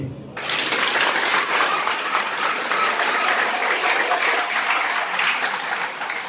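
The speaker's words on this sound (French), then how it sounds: "Et je vous demande de l'applaudir." Sustained audience applause breaks out and stays loud and dense for several seconds, a full even roar of many hands clapping together with no voices on top.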